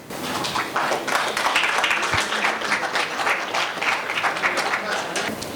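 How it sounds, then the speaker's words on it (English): Audience applause at a tech conference, a dense, sustained clapping from a large crowd that holds steady for several seconds, with some voices mixed in. "a big clap please"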